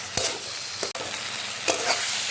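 Crushed garlic cloves frying in hot oil, a loud continuous close sizzle broken by a few scraping stirs and one brief dropout, with no talking.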